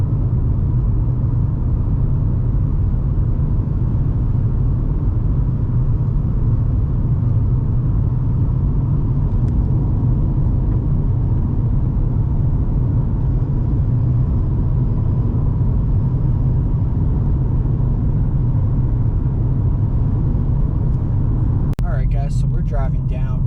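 Steady low road rumble and engine drone inside a car driving through Big Bend National Park, continuous and fairly loud for the whole stretch, with a brief rattle near the end.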